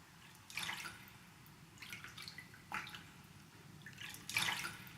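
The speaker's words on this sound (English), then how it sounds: "Imagine a single drop of water, so small, yet the sound of it travels to your ears from afar." Water drips in a quiet space, a few soft separate drops with gaps between them, faint and slightly distant, with no voices.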